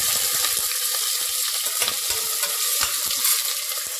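Onions frying in oil with garam masala for a mushroom biryani, a loud, steady, bright sizzle that runs throughout, with faint stirring clicks underneath.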